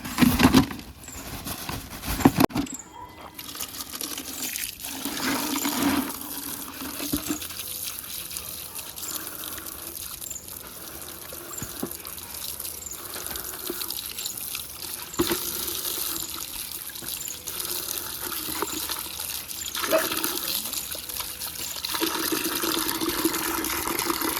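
Running water splashes over a freshly picked breadfruit as it is washed, a steady patter and trickle broken by handling knocks and brief louder bursts, close by with no talk.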